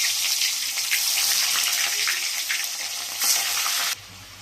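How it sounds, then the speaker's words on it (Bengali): Potato pieces frying in hot oil for chicken biryani, a steady loud sizzle and crackle throughout that drops away abruptly near the end. "এবার এই তেলেতে আমি দিয়ে দেবো এই আলুগুলো।"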